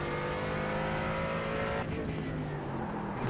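A GT4 race car in the iRacing sim at Circuit de Lédenon drives steadily with a loud, continuous engine drone and shifting pitch as it works through low-speed corners, with no talk over it.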